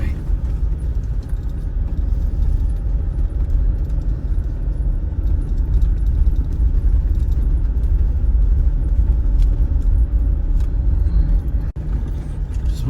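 A Jeep Wrangler 4xe crawls along an off-road trail, a low steady rumble of drivetrain and cabin noise with faint rattles throughout, close and fairly loud.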